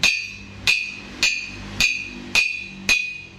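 Six evenly spaced hammer blows strike thick iron for an Isuzu Panther towing bumper. Each blow is a loud, close, metallic clang with a bright ringing tail.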